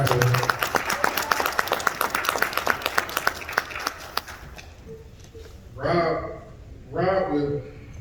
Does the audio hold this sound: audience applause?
yes